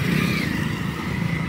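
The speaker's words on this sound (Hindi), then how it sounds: "इतना तेज चला रहा है कि पूछो मत बाइक।" A motorcycle roars past in steady, congested traffic at a red light near a busy Friday market in Noida, its loud engine a continuous mid-range drone for the whole moment.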